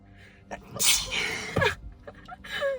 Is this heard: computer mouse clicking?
no